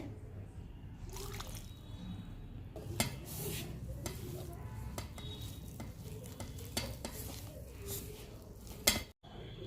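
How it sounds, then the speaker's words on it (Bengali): Biscuit dough is mixed with milk in a pot, giving soft, wet, squelching stirring and scraping sounds in an uneven rhythm, close up, with a sharp knock near the end. "এবার এটা আমরা ভালো করে মেখে নেব"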